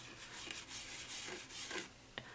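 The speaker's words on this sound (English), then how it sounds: "You can rub your hand across it." A hand rubs across nails coated in textured glitter gel, giving a soft, continuous scratchy rasp that comes in short strokes, with a faint tap near the end.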